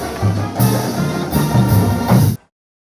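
Marching band playing a fight song: loud brass and drums in punchy accented bursts for a couple of seconds before stopping abruptly into silence.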